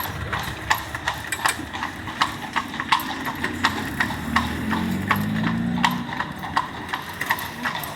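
A horse named Ginger pulls a jaunting car through Killarney, its hooves clip-clopping in a steady, even rhythm close by. A low engine hums beneath the hoofbeats, and a voice speaks briefly.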